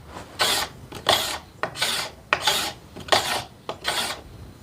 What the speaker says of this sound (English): I'll maybe give 20 scrapes or so, give it a flex, and then just keep checking it